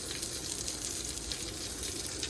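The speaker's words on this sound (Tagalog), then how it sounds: "Shower." Water from a shower running steadily, a dense hissing spray with a low splashing rumble, constant and close throughout with no voices.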